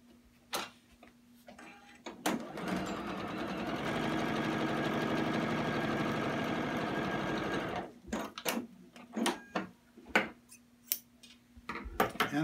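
A sewing machine stitches a quilt block seam in one steady close burst of whirring and rapid ticking lasting several seconds, bracketed by quieter handling clicks and fabric movement.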